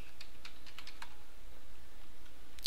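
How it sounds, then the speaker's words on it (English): Keystrokes on a computer keyboard as a password is typed into an Ubuntu 9.10 terminal, a quick, uneven run of close, crisp clicks over a steady low hum, with no talking. "type in your password"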